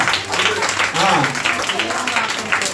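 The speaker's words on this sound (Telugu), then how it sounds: "చప్పట్లు." Children at a Telugu vacation Bible school clap for a boy named Aryan Raj, a dense, steady patter of many small hands close by, with voices mixed underneath throughout.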